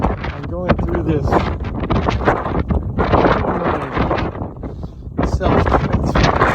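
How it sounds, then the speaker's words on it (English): Strong wind gusting at an ocean viewpoint, buffeting the microphone in loud uneven bursts while people talk throughout. "We came for the view, but we stayed for the wind."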